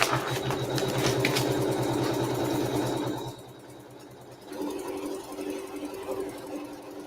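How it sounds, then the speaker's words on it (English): A sewing machine stitches a tack-down line through fabric, a fast rhythmic mechanical whir that runs steadily, pauses briefly near the middle, then resumes at a slightly lower level, close and alone without speech. "now we're going to sew the tack down for this fabric"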